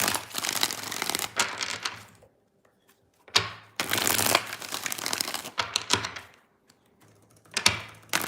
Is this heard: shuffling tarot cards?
yes